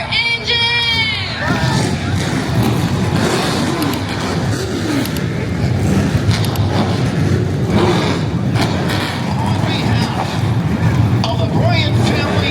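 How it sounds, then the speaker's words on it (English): Pro Truck race engines fire up and rumble at Five Flags Speedway in Pensacola for the Snowball Derby, a loud continuous roar with revving under crowd noise and a voice over a public address at the start. "Drivers, start your engine!"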